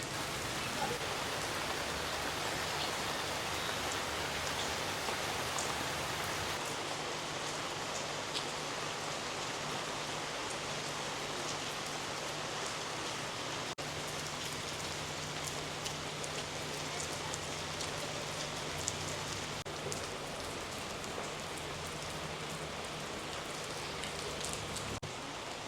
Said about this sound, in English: we're just going to wait for the rain to pass and then have a little explore